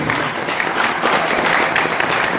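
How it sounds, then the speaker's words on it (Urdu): Steady applause from an audience at a film press conference, dense clapping at a constant, fairly loud level across the whole short stretch. "تالی تو مارو بھائی"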